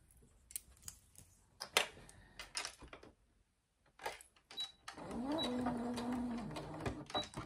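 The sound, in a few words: sewing machine topstitching a fabric pouch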